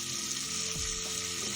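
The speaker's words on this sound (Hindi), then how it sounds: "जैसे ही हमारा घी गर्म हुआ हमने इसके अंदर डाल दिया है चिकन" Chicken pieces fry in hot ghee in a pan with a close, continuous hiss and crackle of steady sizzling and no voices.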